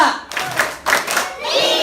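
Children clap three times in a Ramadan storytelling clapping game, sharp separate claps in quick succession, close and loud, with an adult voice speaking between them.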